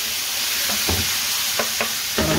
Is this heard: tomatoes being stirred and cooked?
yes